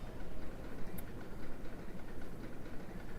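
A roller coaster train of seven cars runs along its track in the Roller Coaster Tycoon game, heard as a steady low rumbling clatter with no gaps, moderately loud, and no talking over it.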